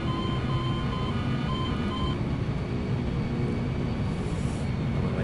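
Boeing 747 engines roar at go-around (TOGA) thrust in the FSX flight simulator, a steady, loud, continuous drone that holds evenly throughout.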